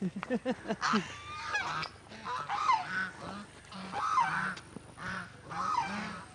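Geese honking repeatedly nearby, a series of loud nasal calls in uneven bursts with short pauses between them.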